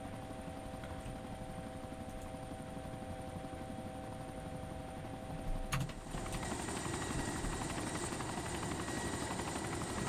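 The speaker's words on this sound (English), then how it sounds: "Chopper." A helicopter in the survival game DayZ with a damaged engine, its rotor and engine drone loud and steady throughout, swelling briefly around the middle.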